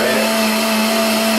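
A blender runs continuously at high speed, loud and steady, whirring as it purees warm cooked celery and vegetables into a smooth low-carb cream of celery soup, with no voices.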